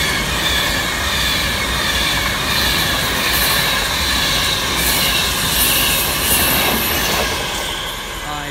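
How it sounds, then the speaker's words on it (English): A Virgin Trains West Coast Class 390 electric passenger train rumbles past close by at Lancaster on the West Coast Main Line, steady and loud for several seconds, with wheels squealing on the rails and a faint clatter. "Passing by now is a Virgin Trains West Coast 390."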